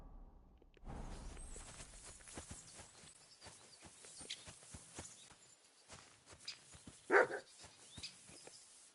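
Dog barks in a series of sharp, fairly distant yaps alongside shuffling footsteps and movement around an open doorway, with one louder bark standing out near the end.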